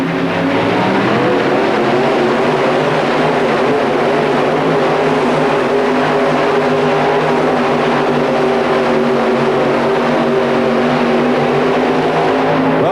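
A 4WD pulling truck called the Wild Hare roars at full throttle during an indoor pull at the Pontiac Silverdome in Michigan in 1991, a loud, steady engine drone that holds for the whole stretch.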